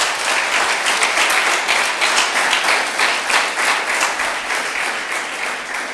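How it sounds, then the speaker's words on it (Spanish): A church congregation breaks into loud, sustained applause, a dense wash of many hands clapping together at close range that tapers slightly toward the end. "Den un fuerte aplauso al Espíritu."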